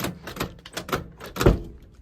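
A repaired car door is shut after accident damage, with several quick knocks and handling sounds leading to one solid thud near the end, close by.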